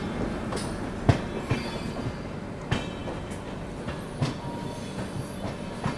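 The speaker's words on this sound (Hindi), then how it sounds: "ये जो ट्रेन है ये कानपुर सेंट्रल पहुंच रही है।" The Howrah–Barmer Express passenger train, hauled by a WAP-7 locomotive near Kanpur Central, passes with a continuous loud rumble and periodic clickety-clack wheel beats over rail joints, heard close up without talking.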